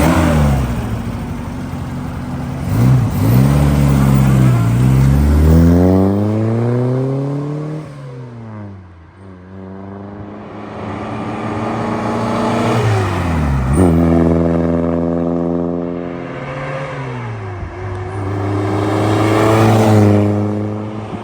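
A 1957 Morgan Plus Four drophead sports car makes repeated flybys, its engine revving and rising as it approaches, then sweeping past with a falling pitch. Several close, loud passes come in succession with brief lulls between them.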